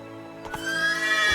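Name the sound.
horse Roach neighing in the video game The Witcher 3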